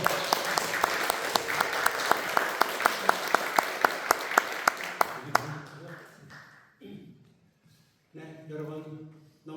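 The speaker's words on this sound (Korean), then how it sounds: "자, 우리 박승배 선교사님 앞에 나올 때 우리 좀 박수로 환영했으면 합니다" A church congregation claps to welcome a missionary at a Sunday afternoon service, crisp steady applause for about five seconds, then quieter talking.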